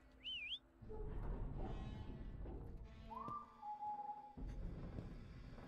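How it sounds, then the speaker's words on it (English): A character whistles in the indie horror game Lazaret aboard an abandoned ship, a short wavering two-note whistle up front, followed by eerie tonal game sounds and a low rumbling ambience. "Press Q to whistle, revealing nearby threats."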